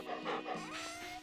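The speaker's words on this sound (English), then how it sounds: "How could I forget about my dog?" A pet dog in the farming video game Stardew Valley pants steadily and fairly loudly over a short stretch, rhythmic breathy huffs with faint whimpering tones, no talk.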